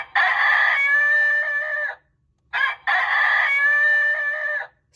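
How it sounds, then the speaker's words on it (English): A farm rooster crows twice in quick succession. Each loud, clear cock-a-doodle-doo lasts about two seconds, with a short silent gap between them. "Sound of rooster."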